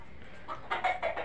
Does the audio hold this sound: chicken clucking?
yes